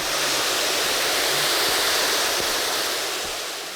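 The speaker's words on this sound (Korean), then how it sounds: "산 중턱쯤에서 만날 수 있는 이 수락폭포는 석천암에서 군자계곡을 거쳐 흘러드는 그야말로 청정수입니다" Suraksan waterfall on Daedunsan mountain pours clear mountain stream water into a pool below, a steady, loud, broadband rush of falling water filling the whole stretch without pause.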